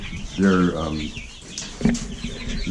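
Backyard chickens on a bed of wood chips and grass clippings clucking and squawking close by, with a loud burst at the start and scattered calls after, while a person talks.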